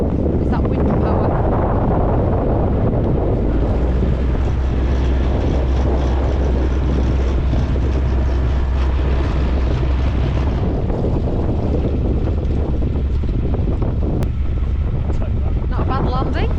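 Strong wind buffeting a microphone aboard a UK narrowboat on a very windy day, a loud continuous roar and rumble throughout with gusting variation, while people talk over it.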